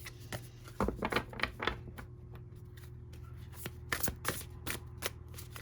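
Tarot cards are shuffled close by with uneven bursts of riffling and soft slaps and taps, separated by brief quieter gaps. A faint steady hum sits underneath, and no one speaks.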